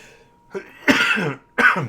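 Two harsh, close coughs, one longer and one short burst, with a faint throat sound just before them.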